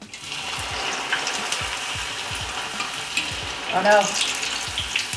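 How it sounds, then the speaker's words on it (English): Soy curls fry in hot oil for a vegan Mongolian beef dish, giving a continuous close sizzle with soft stirring scrapes, and a person speaks briefly over it. "So we're just gonna fry this because this is something that they do with beef."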